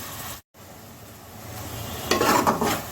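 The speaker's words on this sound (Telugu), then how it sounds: "తర్వాత కోసి పెట్టుకున్న టమాటా ముక్కలు వేస్తున్నాను" Chopped tomato pieces drop into a hot pan of frying onion and green chilli, and a quiet sizzle swells into louder crackling near the end.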